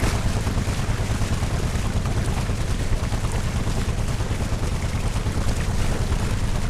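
A steady, loud outboard motorboat engine drone with a dense rumble and constant wash, running nearby, with no voices.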